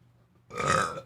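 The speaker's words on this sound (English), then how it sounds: "I got a burp." A man on a fitness podcast lets out a single loud, drawn-out coffee burp close to the microphone after a brief quiet moment.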